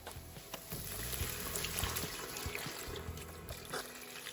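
Beef broth pours into a pot of garden-fresh chili, a steady liquid splash and trickle that runs close and moderately loud through the whole stretch.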